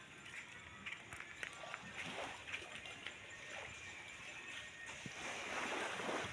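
Sea waves wash near a seaside house, a steady broadband surf rolling faintly in the background with no one speaking.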